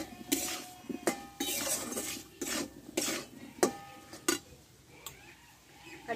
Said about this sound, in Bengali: মশলাটা ভালোভাবে কষে নেব এবার